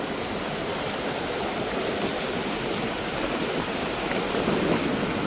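Sea waves wash steadily along a shoreline during a walk at the water's edge, a continuous broad rushing surf close by with no voices.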